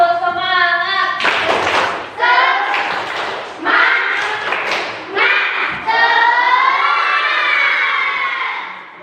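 A classroom of children claps a rhythmic spirit cheer in bursts of quick claps, mixed with loud shouted chanting voices close by.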